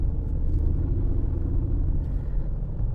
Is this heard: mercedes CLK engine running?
yes